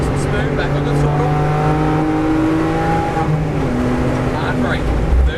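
Race car engine building speed on a track during a driving lesson, a loud sustained in-car drone with rising and shifting engine tones, an instructor's voice talking over it.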